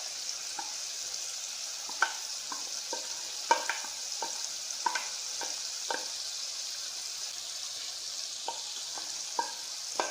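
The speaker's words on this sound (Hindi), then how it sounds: "सारे मसालों को मैंने अच्छे से भून लिया है।" Spices for a matar gosht curry frying in a pan, a steady soft sizzle with scattered scraping clicks of a spoon stirring at irregular intervals, no talk.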